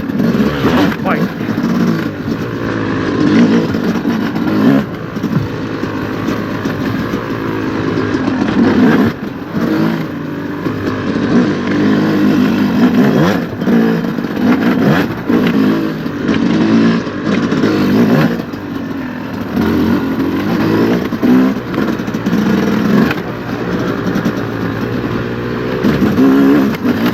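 A 2025 Yamaha YZ250X two-stroke dirt bike ridden off-road on trail loops, engine rising and falling as it revs and backs off, close and loud throughout.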